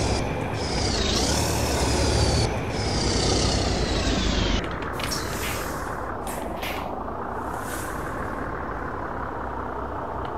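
A vehicle engine runs steadily and loudly throughout, with a brief hiss like an air brake, then continuous road and engine noise, close and alone.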